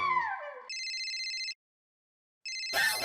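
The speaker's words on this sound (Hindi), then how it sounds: "दया का फोन आता तो ऐसा लगता है जैसे तीर आ रहा है। उठाओ भाई" A mobile phone rings with a bright electronic melody: a falling tone, then two sustained bursts of ringing separated by a short silence, loud and close with no talking.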